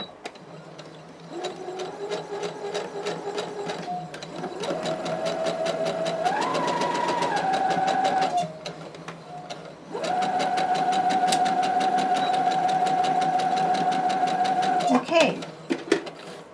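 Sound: sewing machine stitching fabric

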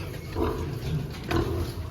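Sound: pigs squabbling in a pigsty

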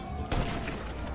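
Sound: gunfire in GTA 5 video game

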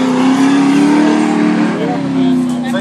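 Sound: V8 junior speedway car engine racing

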